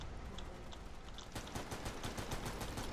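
A light machine gun fires in the Vietnam-era shooter game Military Conflict: Vietnam. It starts with sparse shots, then breaks into a fast continuous burst of loud rattling gunfire over dense game background noise.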